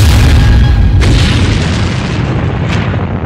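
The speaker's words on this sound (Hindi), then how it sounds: "इसके बाद यह टैंक चलता रहा और फिर ऐसा धमाका।" Loud, deep explosion as a Lancet drone strikes a moving tank in news footage, a heavy low rumble filling the whole stretch with a sharp burst near the start and another crack later.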